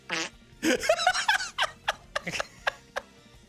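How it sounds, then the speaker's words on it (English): A phone soundboard app plays a series of fart noises, a few long wet ones followed by several short sharp blasts, loud and close, with laughter mixed in. "pull out my phone for my like fart soundboard"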